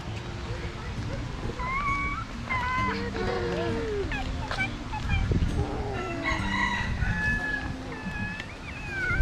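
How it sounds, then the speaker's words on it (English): A rooster crows amid scattered clucking and other fowl calls, with murmuring voices and outdoor background noise throughout, in Hawaii. "Heard the rooster too?"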